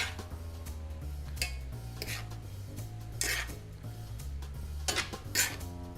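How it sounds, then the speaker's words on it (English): Vegetables are stirred in a pan in a home-style kitchen, with repeated scraping and clinking of a utensil against the metal at an irregular rhythm, close by over a low background hum. "So we're just going to mix that around a little bit. Just stir that in now."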